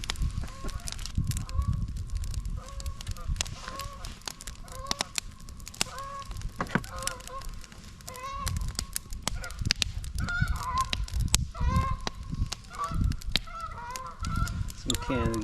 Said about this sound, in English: Some Canada geese just flying by.